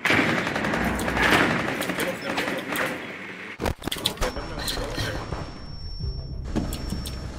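Video game gunfire crackles in short bursts, with sharp close shots and a brief rattling volley over steady background game noise, while a player talks excitedly throughout.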